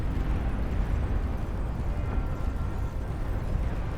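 Massed plasma cannons fire in a huge 84-player battle in the real-time strategy game Beyond All Reason, a dense, continuous roar of overlapping low booms and blasts with no distinct pauses.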